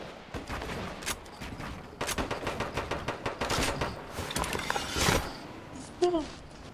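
Rapid gunfire bursts from a squad-based shooter video game, with sharp repeated shots in clusters, loud and close, while players talk over the action.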